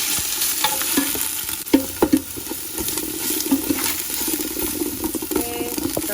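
Kreung paste fries in about two tablespoons of hot oil for Khmer machu kreung rib soup, a steady close sizzle broken by scraping stirs and a few sharper knocks of the utensil against the pan.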